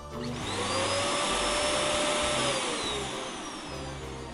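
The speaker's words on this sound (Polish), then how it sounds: "Odkurzacz." A vacuum cleaner in a cartoon whirs loudly and steadily with a rising and falling motor whine, while light background music plays underneath.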